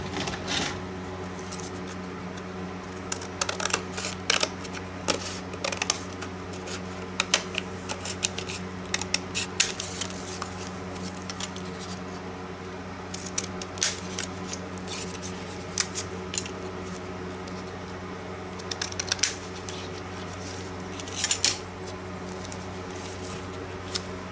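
Scissors snip paper for an art journal in a steady run of short crisp cuts and rustles, close up against a low hum, with no voices.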